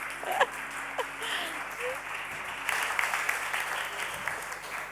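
An audience applauds at the opening of the Innovation Jam event, a steady sustained clapping of a crowd filling the hall for several seconds, moderately loud and close.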